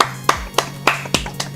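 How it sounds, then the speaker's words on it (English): Five sharp hand claps ring out close and loud at a slightly uneven pace over a quiet background hum, with no talking between them. "Don't clap for that."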